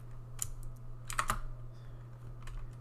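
Computer keyboard typing, a few sharp close key clicks in small clusters with pauses between, over a faint steady hum.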